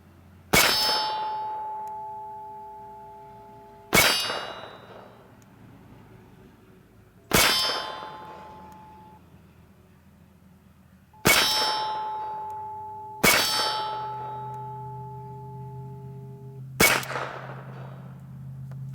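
Six Kalashnikov KR-9 rounds strike a steel target at 200 yards, each a sharp ringing clang that decays over a few seconds, spaced irregularly, with two hits close together.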